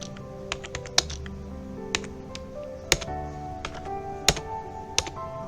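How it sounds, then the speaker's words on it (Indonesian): Keys on a computer keyboard clack in irregular bursts, close and crisp, with a few louder single strikes and quiet gaps between, entering router configuration commands. "Kita ketikkan."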